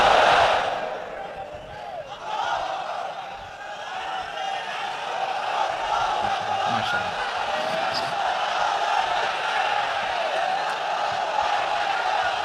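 A large crowd at an Islamic sermon gathering roars the takbir in unison, a loud, sustained massed shout of many voices that swells and carries on for several seconds, reverberant as if in a big open venue.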